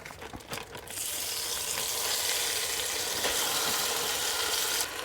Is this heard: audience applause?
no